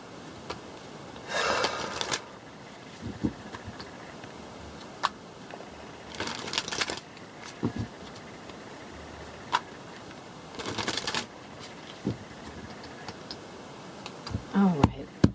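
Bursts of riffling card shuffles, three distinct runs a few seconds apart, with small ticks and taps between them, close and fairly quiet.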